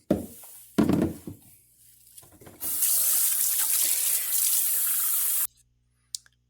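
Running tap water splashes in a sink as a slimy kombucha SCOBY is rinsed on both sides. A few brief handling knocks give way to a steady, loud stream lasting several seconds, then the tap stops abruptly.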